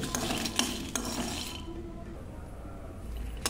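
Ingredients dry roasting in a pan for a bitter gourd fry are stirred with a utensil, producing scraping and rustling strokes for about a second and a half, then a quieter stretch with a faint sizzle and one last scrape.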